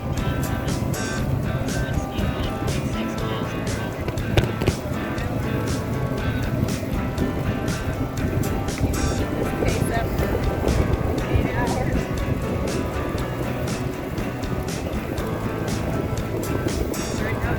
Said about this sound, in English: This is like really windy right now.